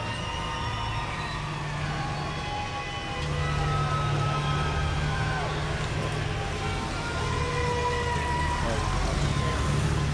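A light super stock pulling tractor roars at a 2001 tractor pull in Louisville, Kentucky, its engine drone steady and strong and rising slightly midway, with crowd noise and talk over it.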